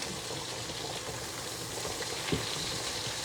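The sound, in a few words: potatoes boiling in a pot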